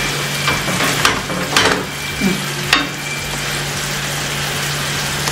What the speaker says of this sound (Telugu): కొంచెం గరం మసాలా, ఇవి బాగా మిక్స్ చేసేసుకుందాం.